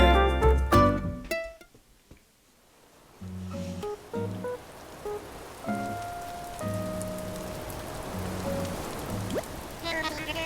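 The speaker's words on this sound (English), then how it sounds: "it looks like it's going to be a rainy day" Rain falling in the video game Animal Crossing: New Horizons, a soft, steady patter of drops that runs under bright, plinking game music and short synthesized tones for most of the stretch.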